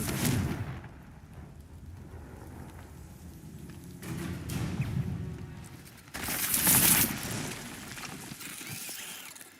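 Confringo blasting spell from Hogwarts Legacy, bursting in a loud broadband explosion about two-thirds through, with a rumbling, crackling magical impact over a busy low background of game sounds.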